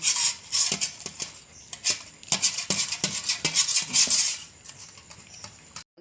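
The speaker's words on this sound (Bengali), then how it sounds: "এক্ষুনি থালা ধুয়ে আবার জল দিতে হবে" A plate being washed at home, with steady clattering of dishes and cutlery, bright metallic clinks and scrapes over running rinsing noise, close and fairly loud, then fading to quiet at the end.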